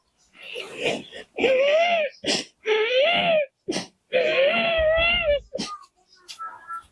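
A man vocally imitates a baby crying, producing several drawn-out wailing, sobbing cries with short breaths between them, close and loud.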